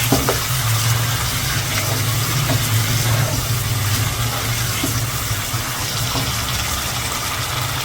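Water is poured into simmering mutton bhuna gosht gravy in a pan, a steady close splashing gush lasting several seconds with no talk.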